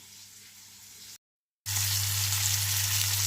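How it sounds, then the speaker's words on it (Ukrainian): Hissing, crackling sizzle of crucian carp, dredged in flour, frying in hot oil in a cast-iron pan, quieter at first, then cutting out briefly before returning louder and steady. "Смажимо до повної готовності. З однієї сторони, потім з іншої."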